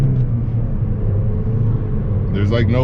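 A Dodge Dart engine runs steadily after gear shifts, a loud low cabin rumble and drone throughout, with someone talking over it near the end.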